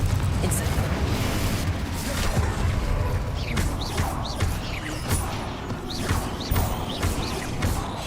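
Confringo blasting spells explode in the video game Hogwarts Legacy, a string of booms and crackling bursts over a dense combat rumble, loud and close with several distinct hits.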